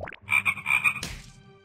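Frog croaks from the Lost in Fantaland video game come as a quick run of four or five loud, rhythmic croaks, then a sharp impact-like burst that rings out and fades.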